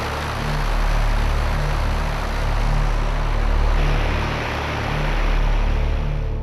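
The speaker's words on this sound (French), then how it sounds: "Se prendre deux ventilos d'avion qui soulèvent du sable et du ciment à 3 h du matin." Two aircraft-engine fans roar steadily on a night film set at about 3 a.m., blowing sand and cement; a loud, continuous broadband rush with low propeller-like hum that swells slightly in waves throughout.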